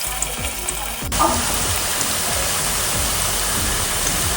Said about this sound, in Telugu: ఇప్పుడు మనం తయారు చేసుకున్న ఉండ్రాలని డీప్ ఫ్రై చేసుకుందాం.